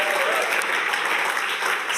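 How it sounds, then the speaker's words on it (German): Warm audience applause at a church sermon gathering, a brief continuous burst of many hands clapping close and loud with no pauses. "Geben wir ihnen doch einen recht herzlichen Applaus aus dem Kalkofen raus."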